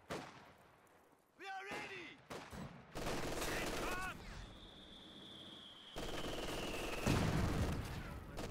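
Bursts of MG42 machine gun fire and explosions ring out in Company of Heroes 2 amid layered battle noise, with a short voice clip, a rising whine and abrupt scene cuts between loud and quieter stretches.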